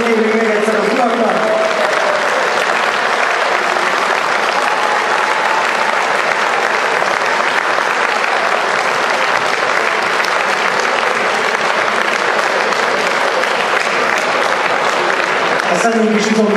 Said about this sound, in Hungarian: Nagy tapsokat kérünk még egyszer az uraknak.